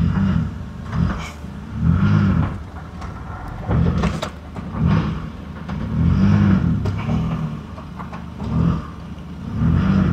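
A Jaguar XJ220 hypercar pulling away on a slope, its engine heard from inside as a low rumble that swells and eases in repeated revs, loud and close.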